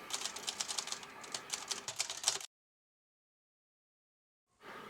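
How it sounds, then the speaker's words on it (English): Rapid clattering keystrokes on a Remington Model 1 manual front-strike typewriter, close and busy for about two and a half seconds, then abrupt silence before faint sound returns at the end. "It's one of the fastest typewriters I've ever used."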